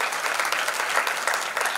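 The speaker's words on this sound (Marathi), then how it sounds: "आणि त्या आईसाठी, अथर्वच्या आईसाठी एकदा जोरदार टाळ्या झाल्या पाहिजे." An audience at a village winning celebration claps loudly together, a dense, even burst of applause lasting under two seconds with no voices on top.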